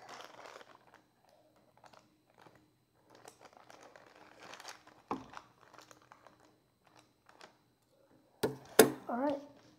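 Roblox figure mystery box packaging being handled and opened, with soft crinkles and scattered rustles throughout, a few sharper tearing crunches near the end, under occasional quiet talk.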